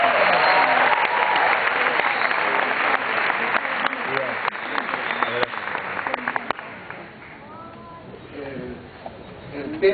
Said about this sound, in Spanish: Se llama Pablo Deiros, denle un fuertísimo aplauso.